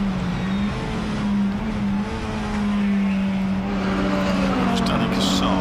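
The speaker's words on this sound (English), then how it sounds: "We get another car coming." A touring race car in a club saloon race at Silverstone National passes on track with a loud, sustained engine drone that holds a steady pitch, close and continuous, with commentary talking over it.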